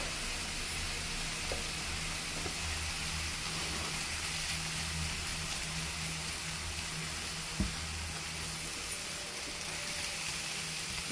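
Ginger garlic paste sizzling in a pan in a kitchen, a steady, even hiss of frying that runs throughout with no talk and a faint low hum underneath.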